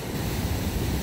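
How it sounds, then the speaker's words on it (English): Waves crash and wash onto the shore near Matelot, Trinidad, as a steady, loud roar of surf and rushing water mixed with wind noise. "And the waves crashing on the shore."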